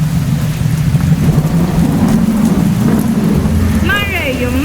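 A thunder-and-rain sound effect at a children's school annual day play rolls on as a steady, loud rumble and hiss of rain, with a brief sung voice rising over it near the end.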